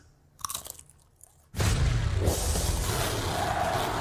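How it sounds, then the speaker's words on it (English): Crunchy cheesy grooves snack being bitten and chewed, a few crisp crackles at first, then a loud, dense crunching burst that continues steadily. "Crunch! Cheesy grooves."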